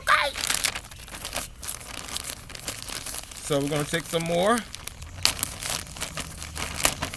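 A plastic bag of worm castings is crinkled and struck by hand in a garden, giving bursts of crackly rustling between and under a man's speech.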